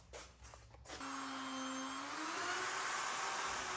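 A router fitted with a cheap Amazon bit flattens a wooden slab, starting with a few rough knocks, then spinning up to a loud, steady whine that holds for several seconds, with no talk.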